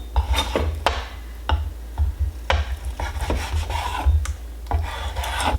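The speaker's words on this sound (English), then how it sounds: "I'm gonna chop up my chicken" Raw chicken is sliced into bite-sized pieces with a knife on a cutting board, producing repeated close rasping, scraping strokes and soft thuds in an irregular rhythm, with low background hum and no talking.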